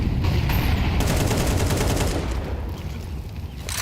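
Dense, sustained machine-gun spam fire during a competitive esports match, with rapid overlapping bursts filling the whole stretch and easing slightly toward the end.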